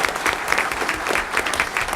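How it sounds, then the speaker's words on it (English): Audience at a school district board meeting applauds a student, with brisk, fairly close clapping that stays steady and even for a couple of seconds, and nobody talking over it. "let's give Lorenzo a round of applause"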